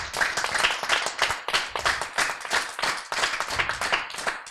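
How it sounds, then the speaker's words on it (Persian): An audience at a children's celebration claps steadily and briskly for several seconds, a dense, even patter of many hands with no speech over it. "تشویق کنید."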